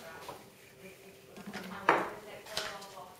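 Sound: spoon mixing milk in a mug

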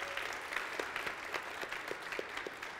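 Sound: audience applause

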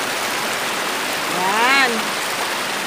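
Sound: Naruron Falls waterfall

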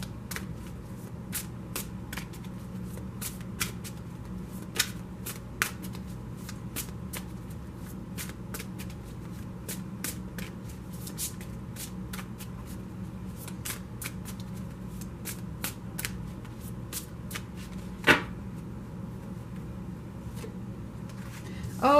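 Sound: shuffling tarot cards

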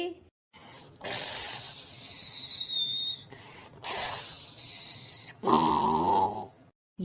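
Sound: someone whistling

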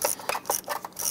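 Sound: ratchet with 10mm socket extension turning a bolt

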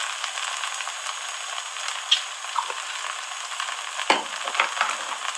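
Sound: roasting in a pan for a milk dessert

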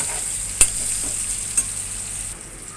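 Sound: raw banana pieces frying in oil

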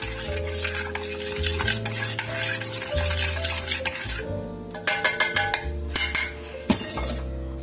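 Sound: stirring cake mixture before mixing with chocolate

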